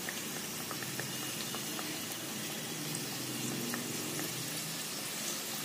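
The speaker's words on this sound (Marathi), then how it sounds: "एका वेळी जास्त सोडायचं नाही, सगळ्या करंजा व्यवस्थित तळता आल्या पाहिजे" Karanji pastries filled with coconut barfi deep fry in hot oil, a dense, even bubbling hiss that stays close and constant throughout.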